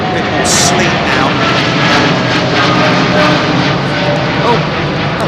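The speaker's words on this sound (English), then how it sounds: "there was a Virgin 787 that went over the top of me just now" A Virgin Boeing 787 jet passes overhead near London Heathrow under a low cloud base in sleet and a strong headwind, its engine roar loud and steady throughout, with a broad rumbling wash and no break.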